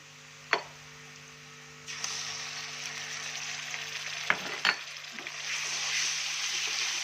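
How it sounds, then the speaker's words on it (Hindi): A steady, hissing sizzle of ginger-garlic paste frying in a hot pan with browned onions, with occasional taps and scrapes of a spoon stirring, over a faint electrical hum. "मसाले को अच्छी तरह भूनना चाहिए, अच्छी तरह भूनें"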